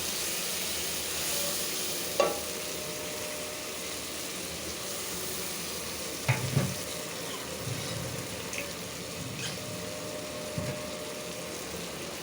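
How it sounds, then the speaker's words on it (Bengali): Spices such as ginger, garlic, coriander powder and bay leaf fry in oil with a steady, moderate sizzle, broken now and then by soft stirring scrapes and clicks. "ধনিয়া গুঁড়ো তেজপাতা সব মশলাটা একে একে কষানো হোক"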